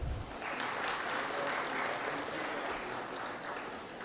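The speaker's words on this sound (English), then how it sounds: "Please welcome our dignitaries with a huge round of applause." An audience at a CSIR curtain-raiser ceremony claps in a sustained round of applause that stays steady and fairly even for about four seconds, heard from within the hall.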